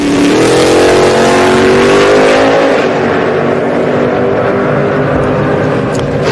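A 1965 Chevy Nova making a drag racing pass, its engine roaring loud and close and rising in pitch through a hard acceleration before holding a strained high drone.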